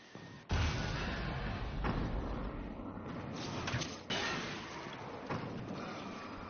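A grenade blast in the video game Alan Wake's American Nightmare: a sudden loud, low boom followed by sustained rumbling noise, with further heavy thuds, no talking heard.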